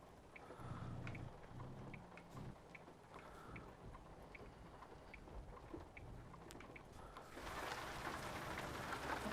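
Heavy rain in the American Truck Simulator driving game, a dense, steady wash of falling water with scattered drops and low rumbles, swelling louder near the end.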